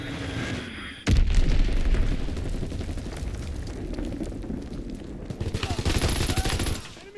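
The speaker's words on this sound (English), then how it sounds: "Enemy bomb incoming!" A bomb strike in Call of Duty WWII multiplayer lands with a loud boom, followed by a sustained rumble of explosions and crackling gunfire, with a second wave of blasts swelling near the end.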